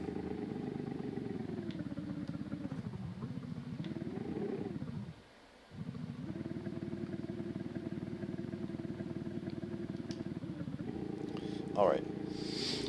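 A steady droning car engine hum in the game BeamNG rises and falls in pitch, revving and dipping briefly before settling back into a continuous rough tone.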